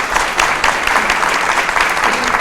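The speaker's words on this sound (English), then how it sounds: "Let's give these folks a nice round of applause." Audience applauding panelists at a talk on marketing to the LGBTQ+ community, a steady, dense round of clapping from a room full of people, loud and sustained throughout with no voices on top.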